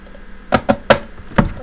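A faulty computer mouse clicks four times, loud and close, in an uneven rhythm during a Minecraft session, with each click sharp and slightly ringing.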